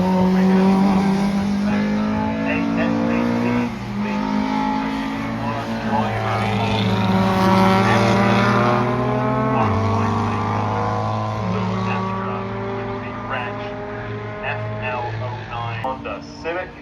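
A Honda Civic race car at a time attack circuit event sends out a steady, loud engine drone with shifting harmonic pitch as it runs past. Commentary carries on over it the whole time.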